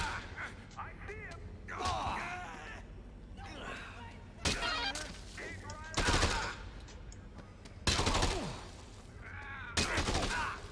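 Enemy gunfire in Dead Rising 2 cracks out in several loud, sharp bursts spaced a few seconds apart, with mechanical clanks and creaks between them and a voice shouting among the game sounds.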